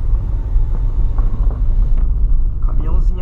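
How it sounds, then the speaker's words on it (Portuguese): A truck rattles along a dirt road with a heavy low rumble and clattering knocks, loud and close, while someone talks over it. "o caminhão vem estralando"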